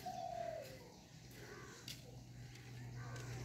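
Doves or other birds cooing from open village fields in Bikrampur, Bangladesh, answering one another from both sides; a clear call opens the clip, then softer calls sit over a steady low background hum.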